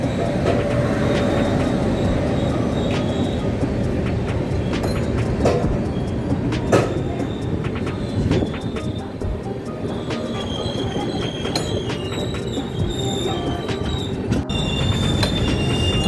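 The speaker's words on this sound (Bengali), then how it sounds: "নবদ্বীপ স্টেশন থেকে ট্রেন ছাড়ার পর এক অন্ধকার নগরীর মধ্যে দিয়ে ট্রেন ছুটে চলল কাটোয়া জংশনের উদ্দেশ্যে" An express train runs at night toward Katwa Junction, heard from aboard as a loud continuous rumble with rattling wheels, metallic squeals and scattered clanks throughout.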